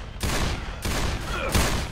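Teammates fire guns in the zombie shooter game Left 4 Dead, sending out three loud, dense bursts of rapid gunfire back to back, close and harsh, with almost no gap between volleys.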